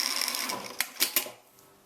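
A sewing machine runs briefly, stitching along a double-sided leather buttonhole, its rapid mechanical whir followed by a few sharp clicks and clacks before it stops, close and fairly loud.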